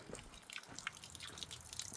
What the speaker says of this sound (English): a water source where it's just coming out of a pipe and tapping into the little spring